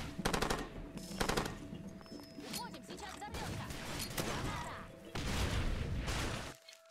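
Gunfire in the video game Far Cry 2 while shooting enemies: loud bursts of automatic fire and repeated shots in several clusters across the clip, with chaotic crashes and impacts between them.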